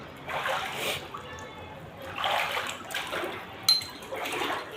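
Floodwater about two and a half feet deep sloshes and splashes inside a flooded house in slow bursts, a few separate swells with a short sharp splash near the end, fairly close and not loud.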